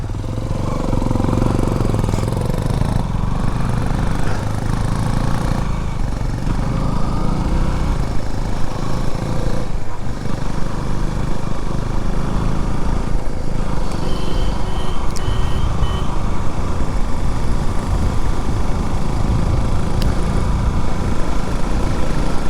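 A motorcycle rides along a narrow single-lane road near Datta Peetha in Chikkamagaluru, its engine droning continuously and close at a steady, rough pitch throughout, with no speech over it.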